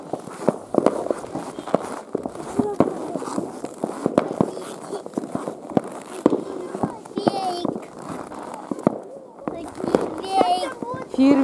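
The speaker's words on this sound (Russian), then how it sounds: "скажи фейерверк" Scattered sharp pops and cracks of New Year's fireworks going off outdoors, irregular and moderately distant, with children and adults chattering throughout.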